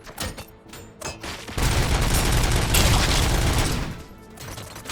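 Automatic weapon fire in the video game RoboCop: Rogue City: a few separate shots, then a dense, sustained roar of full-auto fire lasting a couple of seconds before it tapers off, loud and close.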